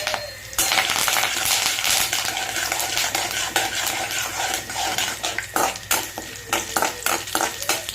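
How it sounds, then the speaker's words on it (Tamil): Mustard seeds, chana dal and curry leaves spluttering in hot oil for semiya upma, a loud, close, crackling sizzle that starts abruptly and continues with sharp pops and metal spoon scrapes against the pan. "போட்டு நல்லா கடுகு பொரிஞ்சு வரட்டும்."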